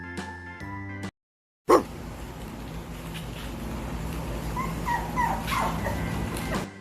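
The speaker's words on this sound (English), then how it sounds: "D for dog. D for dog." A dog in an alphabet song for children gives a few close, loud barks and yips with a brief whimpering quality, following a short musical phrase and a gap of silence.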